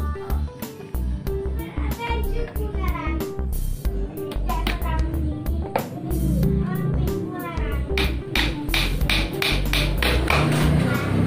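A hammer drives a nail while a drawer guide is installed, giving sharp, steady taps in quick runs that go on throughout, close and loud. A person talks between the strikes.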